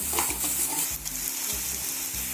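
Cumin seeds frying in a pan for a potato samosa filling give a steady, loud close sizzle and crackle, with a few scraping stirs pulsing beneath it and no voices.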